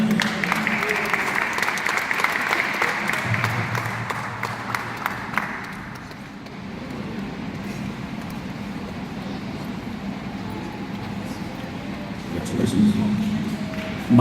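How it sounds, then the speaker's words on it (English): Audience applause for football players at a football awards event, steady clapping lasting through the stretch with a brief dip midway, alongside talk in the room. "So give them a applause for playing hard"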